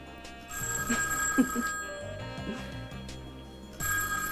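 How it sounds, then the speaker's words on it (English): A telephone bell rings in a home during a 1994 soap opera, two trilling bursts separated by a pause, clear and fairly close with background music underneath. "Phone."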